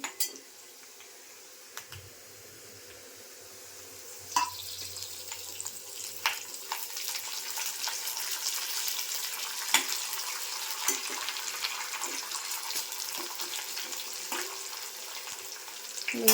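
Fresh coriander dropped into hot oil for a tempering in a Malvani potato curry, a quiet start giving way to a steady crackling sizzle with scattered sharp pops and a few utensil clinks.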